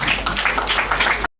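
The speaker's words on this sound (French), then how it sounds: "Sous vos applaudissements encore" Applause from an audience at a French-speaking tribute gathering, a dense, steady wash of many hands clapping at close range for just over a second before cutting off abruptly.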